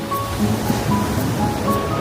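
Sea waves at Simpson Bay on Sint Maarten breaking right at the beach beside buildings, a continuous wash of surf with steady rushing hiss and no distinct individual crashes, fairly close and unbroken.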